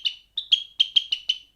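Birds give a run of about seven bright, clear chirps in quick, uneven succession as a sound effect in a fantasy audio story about a sorcerer's apprentice, fairly close and standing alone with no talk.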